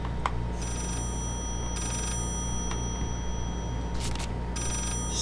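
An old-style telephone bell rings in the horror game Layers of Fear, bursts of ringing repeating at regular intervals over a low droning hum.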